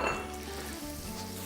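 Tomato and other vegetables sizzling in a hot pan for eggplant caviar while being stirred, a steady crackling fry with the scrape of a utensil against the pan.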